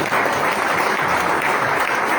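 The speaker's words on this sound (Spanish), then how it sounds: "Dele palmas al Señor, hermano." A church congregation at an Ecuadorian vigil service claps together in a dense, steady burst of applause, loud and close, with no talking over it.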